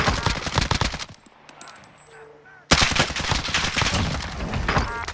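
Bursts of automatic gunfire from Call of Duty: Modern Warfare, loud and close, rattling densely, breaking off into a brief lull and then resuming just as heavily.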